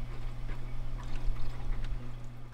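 Water pours from a refrigerator's filter line into its reservoir in an off-grid home, a steady low trickle and splash with a constant hum underneath, no one talking.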